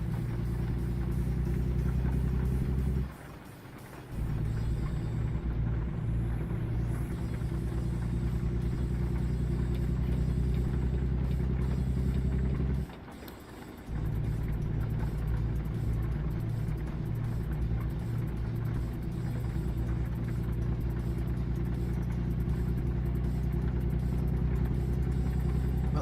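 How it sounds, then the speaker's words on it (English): Truck engine in American Truck Simulator pulling away and gaining speed, a steady low droning rumble with two brief dips like gear shifts, loud and continuous with no talk. "You want to go, truck? So I can start picking up speed."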